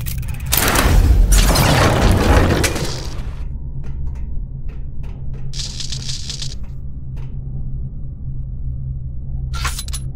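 Bomb blasts in the video game Verne: The Shape of Fantasy, opening with a heavy rumbling boom that shatters and crumbles over a few seconds, then a low droning rumble dotted with short bursts of debris and clicks.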